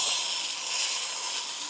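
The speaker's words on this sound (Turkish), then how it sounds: "Bütün malzemelerimizi bu buhar makinesiyle temizlik işleminden geçiriyoruz." A steam cleaning machine used to sanitize rakı-making equipment, its tank filled with water and citric acid, gives a steady, loud, continuous hiss that holds evenly with no pauses.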